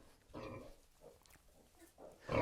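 Pigs and piglets grunt in a farm pen in a few soft, short bursts close by, ending in one louder snort.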